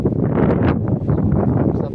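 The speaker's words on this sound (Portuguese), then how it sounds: "bastante vento" Strong wind blowing across open rural land in Paraná as the weather closes in before rain, a steady loud broadband rush with gusty swells throughout.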